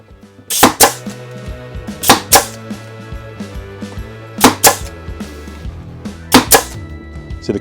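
Clarke CSN1D air nailer firing nails in sharp paired bursts, each shot a loud close crack followed by a quick second snap, repeated four times with pauses between and a low hum underneath.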